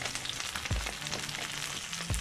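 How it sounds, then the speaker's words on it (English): Garlic sizzles steadily in hot olive oil in a pan, with a continuous close crackle and a few low thumps from the pan, and no talking. "All that lovely olive oil and garlic going there."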